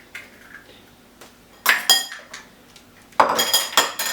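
Utensil clinking against a bowl while egg is mixed into sliced onions for onion bhajis, bursts of quick scraping taps and metallic clinks in short rhythmic runs, close by, no talk.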